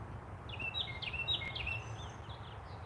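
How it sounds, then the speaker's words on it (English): Small bird chirps and trills outdoors, a few bright short calls clustered in the first half over a quiet, steady background hiss, fairly distant and soft. "You hear that bird in the background?"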